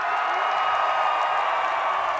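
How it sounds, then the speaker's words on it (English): A punk concert crowd at Union Transfer in Philadelphia roaring for the band: a loud, steady wall of cheering and applause that holds evenly throughout. "you are the fucking loudest crowd in the world"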